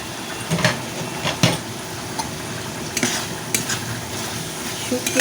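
Dried fish cooking down with spices in a covered pan, a continuous sizzle and frying hiss punctuated by a few sharp utensil scrapes and clinks against the pan.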